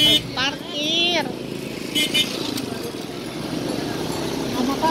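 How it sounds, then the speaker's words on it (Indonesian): A motorcycle passes along a busy city ring road during a car free day in Tasikmalaya, its engine rising and then fading over steady crowd and street noise while people talk nearby. "Ada motor Pak, ada Pak."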